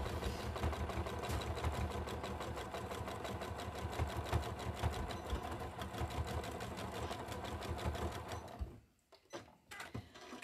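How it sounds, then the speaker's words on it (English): Sewing machine stitching backwards on a large tote bag, a steady rapid mechanical chatter running for several seconds, then stopping abruptly with a few faint clicks. "Don't forget to stitch backwards so that it doesn't come undone."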